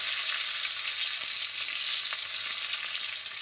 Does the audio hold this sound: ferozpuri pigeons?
no